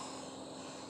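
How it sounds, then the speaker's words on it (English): A distant airplane drones steadily overhead outdoors on a fall morning, a faint, even hum with no break across the short stretch and no voices. "we got an airplane someplace back here."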